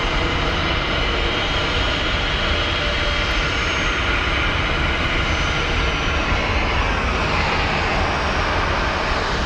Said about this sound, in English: watch planes, and enjoy the ambient sounds of aviation